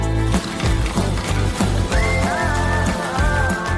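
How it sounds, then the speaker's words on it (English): A pot of marinade with apple cider vinegar and chili peppers at a rolling boil, giving a close, loud, bubbling and popping sound with irregular splashy bursts. "Boil it all for 5 minutes."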